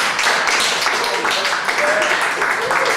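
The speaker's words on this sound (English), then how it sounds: "Give these guys a round of applause" Audience applause for performers in a room: a dense, steady wash of clapping that fills the whole stretch, with voices murmuring underneath.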